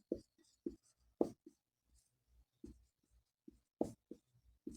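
Pen or chalk writing out a maths equation on a surface, a series of short sharp scratching strokes in an irregular rhythm, close but quiet with no talk.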